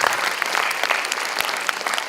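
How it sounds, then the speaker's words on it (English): An audience at a conference claps steadily, a dense, even round of applause filling the whole stretch with no voices over it. "Please give a huge round of applause."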